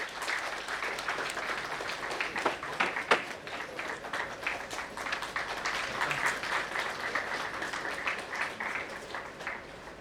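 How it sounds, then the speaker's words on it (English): Memorial lecture audience giving a sustained round of applause, dense even clapping from a large hall crowd lasting about ten seconds without speech. "a big round of applause, please"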